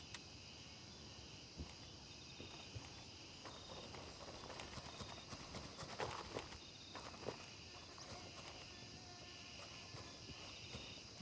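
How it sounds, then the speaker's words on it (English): Quiet footsteps moving around in Gray Zone Warfare, a soft irregular stomping pattern over a steady ambient hiss with a few sharper knocks. "I hear stomping around."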